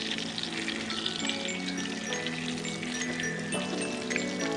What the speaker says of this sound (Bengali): খুব লাল লাল করে ভেজে দেবো যাতে বেগুনটা ভালোভাবে সিদ্ধ হয়।